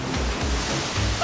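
Ocean waves crash against a sea wall in a brief, loud burst of broadband roaring surf with continuous wash and no voices.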